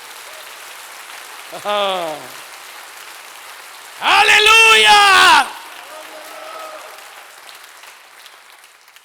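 A church congregation claps for the Lord, a steady broadband patter running throughout beneath loud excited shouts of praise from a preacher and a brief burst of voices.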